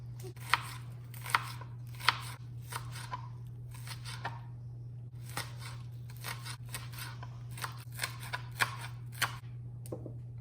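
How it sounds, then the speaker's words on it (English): A knife finely chops raw ahi tuna and ingredients for poke on a cutting board, giving quick close clusters of crisp taps over a low steady hum, with a few sharper strikes standing out. "Let's chop this finely."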